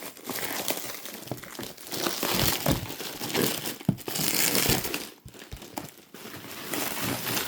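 Black plastic packaging is pulled out of a postal parcel of Beatles LPs, making a loud, continuous close-up crinkling and crackling with brief pauses and no speech.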